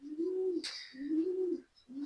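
Pigeons coo softly nearby in hot weather, three drawn-out low coos with short pauses between them and a faint rustle in between.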